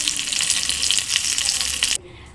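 Red chillies and curry leaves crackle and sizzle loudly in hot coconut oil for an erissery. The sizzle is close and continuous, then cuts off abruptly near the end.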